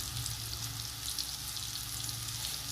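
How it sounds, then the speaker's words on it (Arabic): Hot dog sausages frying in a pan with onions and peppers, a continuous even sizzle and crackle, quiet and unbroken. "انا دلوقتي سايبه الهوت دوج بيتشوح"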